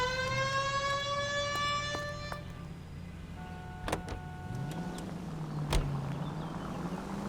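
A police car siren in the video game L.A. Noire wails, sweeping steadily up and down, fairly near, fading into a lower tone with a few clunks, and no voices.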